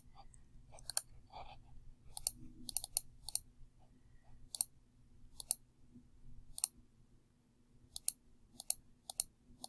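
Light, sharp computer mouse clicks come in quick pairs and short bursts over a quiet low hum, close and crisp with uneven gaps, no one talking.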